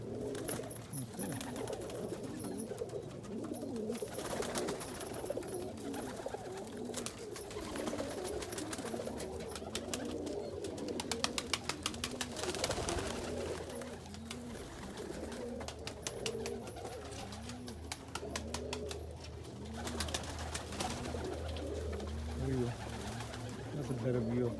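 Andalusian pigeons coo continuously inside a loft, many overlapping, rolling calls close by, with occasional rustling and a voice now and then.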